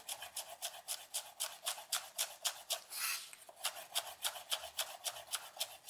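A knife chops spring onions steadily on a cutting board, quick evenly spaced taps repeating at a brisk rhythm, close and fairly quiet.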